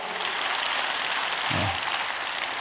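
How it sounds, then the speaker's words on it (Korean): Applause from a church revival congregation, a steady broadband patter of many hands filling the room, with a brief low voice surfacing midway. "박수"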